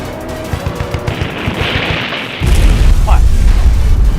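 Missile launch in a Chinese action film battle scene, a loud rushing roar that swells into a heavy, sustained blast under a dense mix of gunfire-like pops and booms, with a voice briefly audible beneath.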